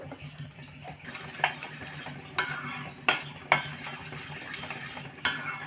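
A spoon or spatula stirs melting jaggery in a pan over a medium gas flame for gur pitha, scraping steadily with several sharp metallic knocks against the pan under a soft, constant sizzle.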